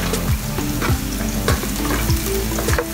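Onion fries in a hot pan for a beef and kangkong stir fry, a loud steady sizzle broken by repeated scraping strokes of a spatula at a regular pace, no speech heard.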